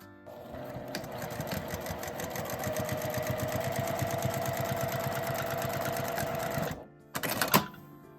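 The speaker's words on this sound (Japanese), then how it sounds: "さっきつけた印を下に線を伸ばして縦に縫います" A sewing machine stitching a seam on a makeup bag, a fast steady rattling run for several seconds, a brief stop, then a short final burst; no voices.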